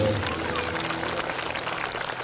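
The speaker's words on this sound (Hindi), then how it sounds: "जोरदार तालियां एक बार आपके पेरेंट्स के लिए।" A crowd at a school event claps loudly for parents, dense applause with a cheering voice or two, steady and close for a couple of seconds.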